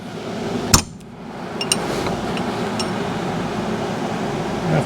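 A half-inch drive offset impact ratchet loosens a bolt on a car with one sharp metallic knock, followed by a steady, loud mechanical whir that runs close up without pause.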